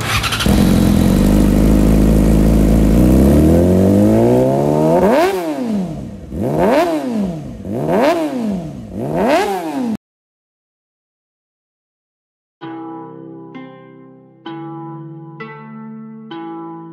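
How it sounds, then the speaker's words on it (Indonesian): A new Kawasaki Ninja 250 FI SE motorcycle engine starts and revs loudly in several rising and falling sweeps, then stops; after a short silence, tonal music plays. "kali ini kedatangan motor Kawasaki Ninja 250 FI yang baru nih"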